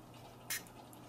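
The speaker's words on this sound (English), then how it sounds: "I'm gonna spray a little of the water." A single short spritz of water from a spray bottle onto watercolor paint swatches, a crisp hiss lasting a fraction of a second over a quiet room.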